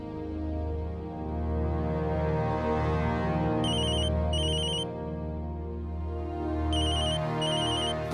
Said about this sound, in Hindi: गौरी के बाबा का फोन है।